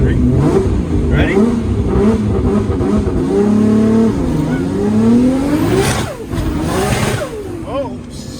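A 1200 horsepower RB30DET-powered four-wheel-drive car accelerates hard, the engine revving loud and close through rising gear pulls with brief drops between shifts, while people shout over it.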